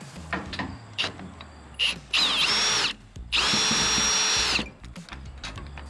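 A power drill backs Torx screws out of a 275-gallon IBC tote, whirring in two sustained high-pitched runs between short clicks and handling noises, heard close.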